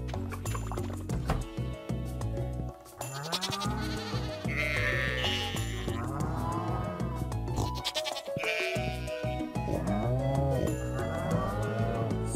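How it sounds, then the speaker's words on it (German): Sheep bleating on a farm in the video game Stardew Valley, several loud wavering bleats repeating over a constant low background hum, no talking. "ich erkenne die Schafe und Ziegen"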